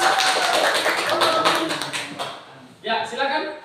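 Classroom applause for a student group, a burst of brisk clapping that fades out, then a short second round of claps.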